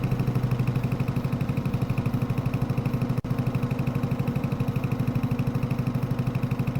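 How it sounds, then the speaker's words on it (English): A slow tractor in Farming Simulator 25 idles with a steady, low, rhythmic putter throughout, fairly quiet and unbroken except for a tiny click partway through. "It's a very slow tractor, mind you, but I think it'll do the job."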